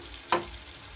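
Water splashes into hot masala frying in a pan for paneer kalia, a single short burst of loud sizzling that quickly settles into a low, steady fry.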